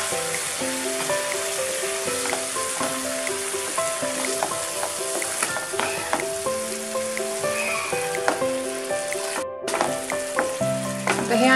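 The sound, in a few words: frying chopped tomato and onion for pav bhaji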